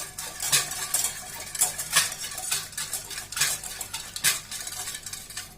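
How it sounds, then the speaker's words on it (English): A utensil stirs quarter-cup of oil into dissolved coffee batter for an eggless herbal coffee cake, scraping and tapping against the bowl in quick, repeated strokes close to the microphone, with no voices. "So I'm adding 1/4 cup of oil here. Mix that also well."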